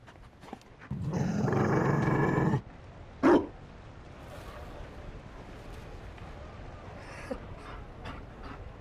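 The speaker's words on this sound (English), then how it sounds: "You found a dog? They don't breed Mabari in Olay." A Mabari war dog from Dragon Age: Inquisition gives a single short, sharp bark in a quiet game scene, preceded by a burst of louder noise and followed by faint ambient sounds.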